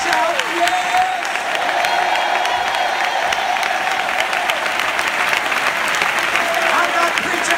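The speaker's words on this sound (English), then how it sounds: "clap your hands right now and shout yes" Church congregation applauding and shouting in a sustained, dense wave of clapping mixed with cheers and raised voices, loud and continuous throughout.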